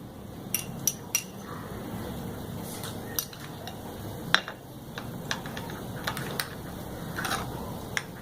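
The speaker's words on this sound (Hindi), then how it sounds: "ये सब चीज़ें मैं एक प्याले में शामिल करती हूँ और तीनों को मिक्स कर देती हूँ" Spoon clinking against a bowl while mixing Worcestershire sauce with other sauces for burger patties, a steady sequence of light metallic taps and clinks over a low background hum.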